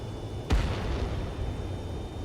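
In Ace Combat 7, a single missile explosion lands as one sharp boom with a low rumbling tail, rising over a steady jet-engine drone.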